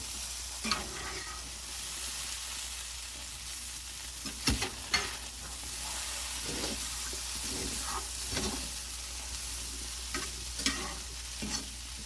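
Breakfast potatoes frying in a cast iron skillet, a quiet steady sizzle with spatula scrapes and knocks as they are turned, a low hum underneath and no voices.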